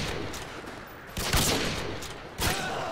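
Gunfire in Call of Duty Modern Warfare 2 on the Rust map: close, loud bursts of rapid shots over a dense, noisy game backdrop, with two sharper volleys standing out.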